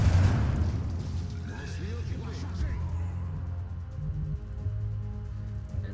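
Assault rifle fire aimed at a zombie in the video game X-COM: a loud burst at the start, then rumbling echoes and a steady low ambient drone, with talk over it.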